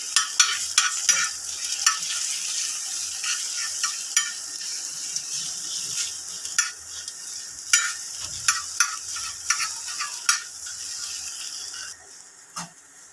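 Stirring in a pan as almonds and raisins are mixed into an egg breakfast, with steady sizzling and a run of sharp spoon scrapes and taps against the pan, close and clear with no talking.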